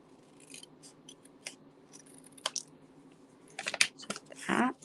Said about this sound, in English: I'm just going to take this and trim this off from the back side